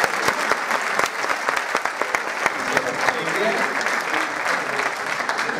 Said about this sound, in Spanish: un aplauso para San Manrique